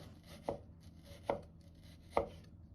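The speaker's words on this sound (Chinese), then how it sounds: "再把瘦肉改刀切成片。" A kitchen knife chops lean pork foreleg meat into slices on a cutting board: three sharp, evenly spaced thuds, close and crisp, with no voices.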